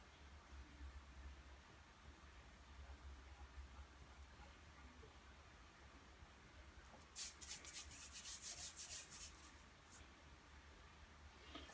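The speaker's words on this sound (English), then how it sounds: "you don't need the guidelines no more. You'd rub those out." An eraser rubs out pencil guidelines on a shark drawing, heard as a brief burst of quick, close scrubbing strokes over a low, steady background hum.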